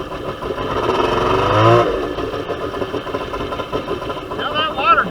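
A Kawasaki X2 jet ski fitted with Mikuni 44 carburetors idles with a steady, rough engine rumble that swells briefly as the idle is raised, then settles back with uneven pulsing.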